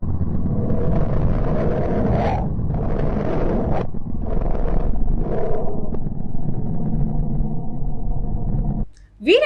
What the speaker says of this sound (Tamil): மர்க்கரிலேருந்து வர சவுண்டு நாலஞ்சு ஹெலிகாப்டர் வானத்தில் போன மாதிரி இருக்குது